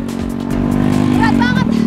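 An old motorcycle laboring up a steep slope with a heavy load, its engine droning loud and close and rising in pitch as it strains, with a voice speaking over it near the end.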